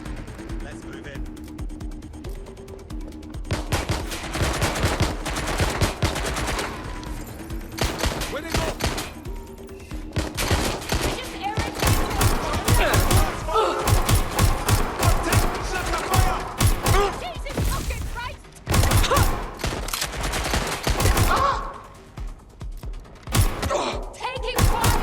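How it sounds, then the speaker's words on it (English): Gunfire in a Watch Dogs: Legion firefight, with dense bursts of rapid shots and heavy thuds going on throughout, loud and close, broken by brief lulls, while voices shout over the combat. "Taking fire!"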